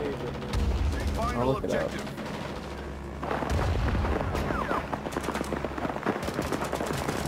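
Rapid machine gun bursts from a video game firefight crackle loudly in rhythmic volleys with deep booms underneath, while people talk over the shooting.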